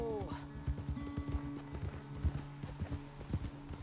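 Horse hooves gallop in Red Dead Redemption 2, a quick, steady clip-clop of rapid beats close by, with a voice audible underneath throughout.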